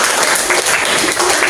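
A classroom audience of students claps for about a second and a half, a dense, loud burst of applause with no talk over it.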